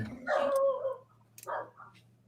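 A dog gives a short bark or whine indoors, fairly close, followed by a second brief yelp-like sound, with a low steady hum underneath.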